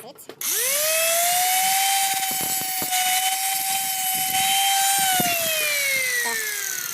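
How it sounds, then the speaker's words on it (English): A 12mm drill bit cuts away excess metal while seating a thread repair for a stripped oil drain bolt hole. It spins up quickly into a loud steady whine, holds for several seconds, then slows as the pitch falls. "we are going to put a seat using this 12mm drilling bit to remove these excessive parts"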